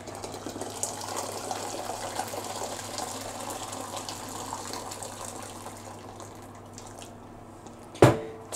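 Water pours steadily into a container while brine is prepared for pickling beets in a home kitchen, a continuous moderate splashing flow that fades out, followed by a sharp knock near the end.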